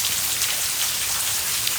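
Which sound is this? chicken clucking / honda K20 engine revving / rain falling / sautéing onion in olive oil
rain falling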